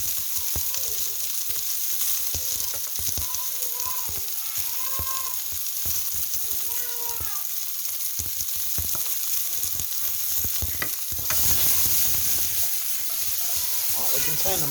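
Mushrooms fry in a hot pan for a Philly cheese steak, giving a continuous close sizzle with occasional scraping and stirring clatter, and the hiss swells louder near the end.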